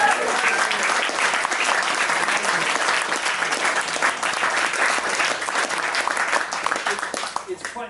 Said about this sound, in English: Can you just give that a round of